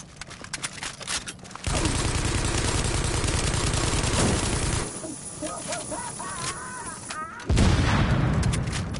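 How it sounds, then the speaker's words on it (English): Gunfire and explosions from The Division video game in the Dark Zone, with a dense burst of rapid shots followed by a loud booming blast near the end, heavy and close throughout, mixed with voices. "Ooh, look at the pretty explosion."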